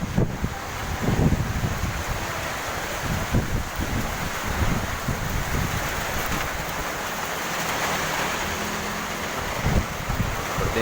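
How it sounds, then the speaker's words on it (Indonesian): Strong wind gusting on Jalan Martadinata in Pontianak ahead of heavy rain, a broad continuous roar with buffeting bursts against the microphone, loud and steady throughout. "Angin kencang,"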